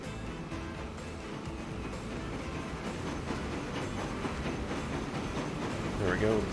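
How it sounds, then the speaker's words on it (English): A locomotive in the video game Transport Fever rolls along rails with a low, continuous rumble and faint clatter that slowly builds, while a voice talks over it. "That is a nice looking locomotive."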